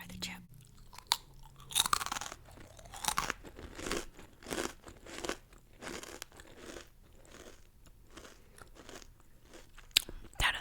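A chip is bitten and chewed close to the microphone, loud crisp crunches repeating in a steady rhythm, with faint mouth sounds in between.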